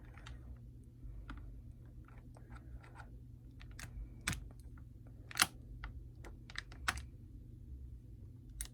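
Scissors snip plastic zip ties on the packaging of a McFarlane Toys My Hero Academia Shota Aizawa figure, giving a scatter of sharp, close clicks and snaps over a low steady hum.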